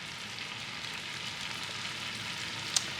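Steak and shrimp searing in a hot skillet, a steady close hiss and crackle of frying that holds evenly throughout, with one brief sharp pop near the end and no talking.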